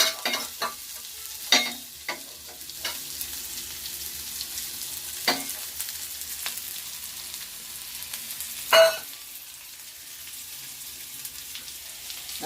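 Tandul kunjra greens stir-fry in a pan over a low flame, a quiet, steady sizzle broken by occasional louder scrapes and clinks of a spatula, with one sharp knock near the end.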